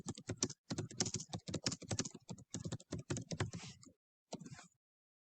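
Quick bursts of typing on a computer keyboard, close and clear, with rhythmic clattering keystrokes, a short pause, then a final brief flurry before silence.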